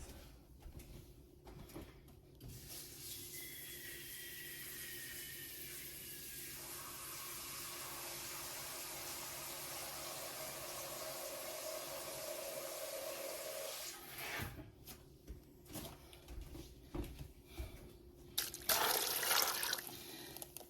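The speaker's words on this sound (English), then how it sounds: "we're going to fill this with water up until to cover our beans" Water pours steadily into a cooking pot of lima beans. The rushing stream hisses for about twelve seconds with a faintly shifting pitch as the pot fills, then stops and gives way to a few clinks and handling sounds.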